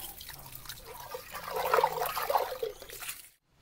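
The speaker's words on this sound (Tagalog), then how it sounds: "hugasan natin na walang sabon" Water splashes and trickles as a clay palayok is rinsed by hand without soap, a steady close wash of dribbling and sloshing that swells midway and then stops abruptly.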